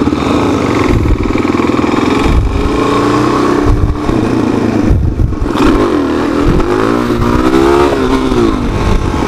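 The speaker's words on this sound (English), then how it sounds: "After this cop, we'll pull a wheelie." Suzuki DRZ400SM supermoto motorcycle revving hard on the street for a wheelie, loud and close with the engine note climbing and falling through repeated throttle bursts.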